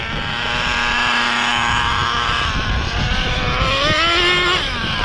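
An HPI Nitro MT2 nitro RC truck, two-wheel drive and smoking on 10% oil fuel, drones past slowly with a steady buzzing engine that rises and falls in pitch as it throttles, loud and close throughout.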